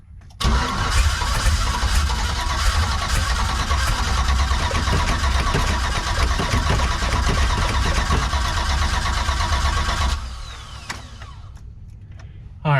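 A sick engine on a car nicknamed The Bruce cranks loudly and steadily for about ten seconds, nearly catching but never firing, then stops and leaves a quieter, uneven tail.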